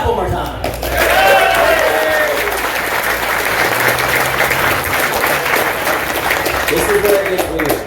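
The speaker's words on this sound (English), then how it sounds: "Clap one more time." Sustained applause from a crowd at a prize ceremony during an event with vendor presentations and live fire, steady, dense clapping throughout with cheering voices mixed in.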